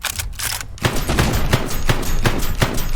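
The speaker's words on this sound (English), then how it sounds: "So let's just keep on firing." Rapid volleys of gunfire from the Black Skylands video game, a pistol fired repeatedly in dense, loud bursts after a brief lull, with sharp repeated cracks and no talking.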